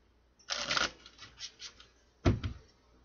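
Tarot cards being shuffled: a dense riffling burst, a few softer shuffle rustles, then a sharp closing snap of the deck, close up and alone without talk.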